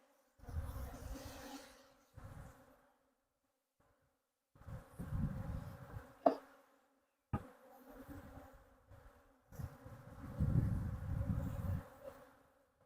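Bees swarm and buzz around a beekeeper in a bee yard, rising and falling in close, droning bursts separated by brief quiet gaps.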